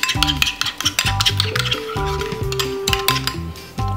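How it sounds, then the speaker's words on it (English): Aloe vera hair treatment being mixed in a bowl, repeated close clinks and scrapes of a utensil against the dish in an uneven stirring rhythm, no talking. "I'm going to be mixing everything together"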